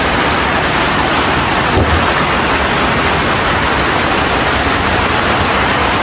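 Heavy storm rain pours down steadily, a dense, loud, unbroken hiss with no let-up, with a faint low thump partway through.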